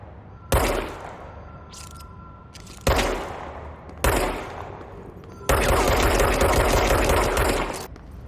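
Loud bursts of gunfire in the video game Control, cloud version on Nintendo Switch: several single shots with echoing decay, then a sustained rapid automatic volley lasting a couple of seconds.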